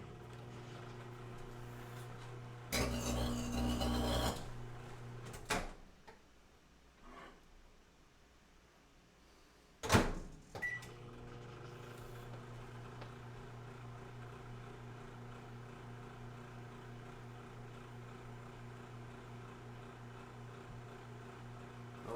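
A faulty home microwave oven runs with a steady low hum, broken by a loud harsh roaring burst near the start and another sharp surge midway before the hum settles again.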